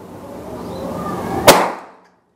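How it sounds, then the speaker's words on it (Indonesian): A single sharp shot from a Ruger PCP air rifle, pressurized to 4000 psi, cracks out near the end of a steady background hum, then quickly decays into silence. "kita coba di tembakan ketiga"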